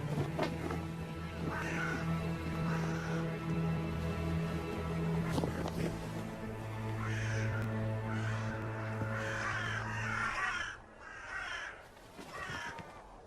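A mob of crows caws repeatedly in harsh, irregular bursts from several birds at once, moderately close, in a mountainous area near deep lakes, with a steady low hum underneath.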